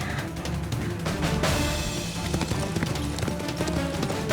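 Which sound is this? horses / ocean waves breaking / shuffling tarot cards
horses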